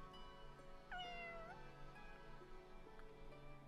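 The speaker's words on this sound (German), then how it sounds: "Also eine persische Katze." A Persian cat in the video game Fire Emblem Engage gives one clear, drawn-out meow that bends in pitch, heard over a steady low game music bed.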